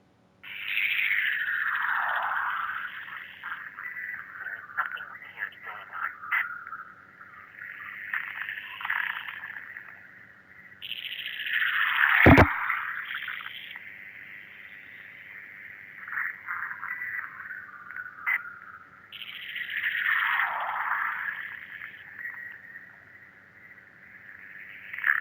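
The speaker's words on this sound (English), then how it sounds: "There was a lot of weird static and stuff." A strange phone message plays over a speakerphone, full of warbling electronic tones, swooping sweeps and crackling static, with one sharp click midway and no speech.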